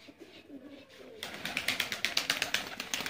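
Cooing of a Rampuri pigeon, a male bird in a breeder's loft, heard as a rhythmic series of close, fairly loud pulsed calls after a quieter start with faint background murmur.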